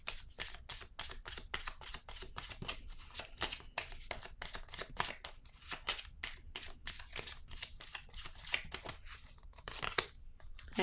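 Rapid crisp flicks and shuffling of playing or tarot-style cards being handled and drawn, a dense run of sharp papery snaps close to the ear, fairly quiet with no talking.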